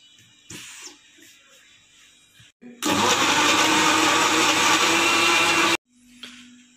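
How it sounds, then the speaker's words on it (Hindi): A mixer grinder blends soup ingredients with added water, a loud, steady whirring roar lasting about three seconds, framed by quieter kitchen handling before and after. "अब इसको मिक्सी चला देंगे।"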